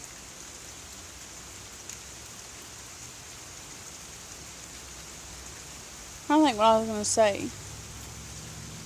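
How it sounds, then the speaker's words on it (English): Steady rain falls outdoors on a fall day, a constant soft hiss running through the whole stretch, with a person briefly talking near the end over it. "it's been raining out here, as you can tell."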